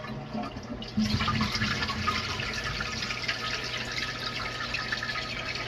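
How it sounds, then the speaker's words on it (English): A low-flow toilet flushes with a steady, broad rush of water that starts abruptly and keeps going at an even level, close by, with no one talking. "Give it a good flush. I think these are the low flows."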